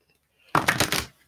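A quick riffle of playing cards being shuffled, one short crisp fluttering burst lasting about half a second, close by in a quiet room.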